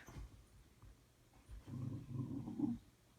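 A dog growls low from the floor below, a soft rumbling grumble that swells in the second half of the clip, fairly faint and with no one talking.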